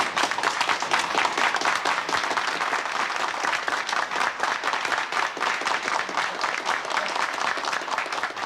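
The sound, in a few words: audience applause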